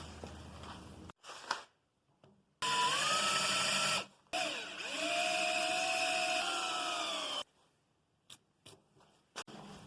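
A drill with a worm gear bit whines through walnut in two sustained bursts, pitch dipping as the bit bites, separated by short pauses and followed by quiet clicks.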